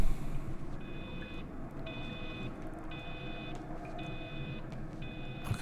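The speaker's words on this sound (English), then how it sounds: "I can hear a beep though." A repeating electronic beep in the countryside mystery game Everybody's Gone to the Rapture, five evenly spaced, moderately loud high tones sounding over a soft ambient bed with no talk.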